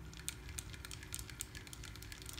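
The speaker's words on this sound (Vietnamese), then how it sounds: "Các bạn nghe cái tiếng đó là tiếng ở chỗ tay quay á" A Shimano spinning reel with ABS and four ball bearings has its handle cranked, giving a quiet, steady run of soft, evenly spaced ticks and clicks with no voices.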